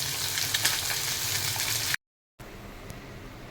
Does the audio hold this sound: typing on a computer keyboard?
no